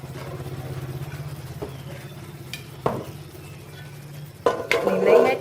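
Cooked pork for floss is lifted from a pot with utensils, with soft scrapes and clinks against the pot over a low bubbling hum, then louder metallic knocks near the end.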